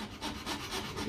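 A thin-bladed hand saw cuts through a plastic robot model shoulder part in quick, rhythmic back-and-forth rasping strokes, close and moderately quiet, with no voices.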